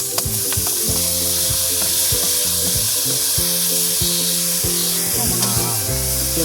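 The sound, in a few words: kibaw and pako ferns frying in a kawali pan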